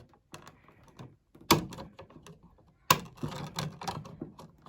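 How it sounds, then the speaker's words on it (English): Wire cutters snip electrical wires while an electrical outlet is being replaced: two sharp, loud clicks stand out among softer handling rattles and taps. "With your handy dandy wire cutters."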